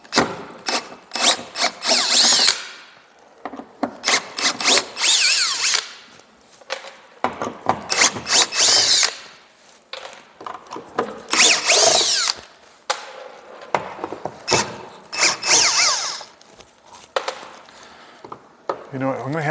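Power drill gun unscrewing the front sponson of a Kawasaki SXR 1500 jet ski: repeated loud whirring bursts of varying length, close by, separated by brief pauses and handling clatter.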